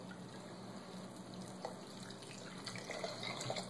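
Tap water runs steadily into a sink as something is rinsed off beneath the stream during the making of a homemade scent blocker, a continuous close, quiet splashing hiss.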